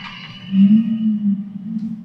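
A whale call, one long low moaning tone that rises and wavers for about two seconds, loud and close, with no talking.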